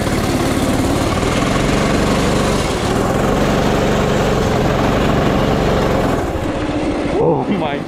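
A mini drift quad's small engine revving hard in a loud buzzing, droning run that holds steady for several seconds, then drops off near the end as a voice speaks over it.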